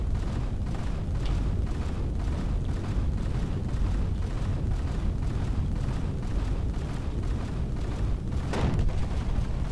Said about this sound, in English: Something blew up on there.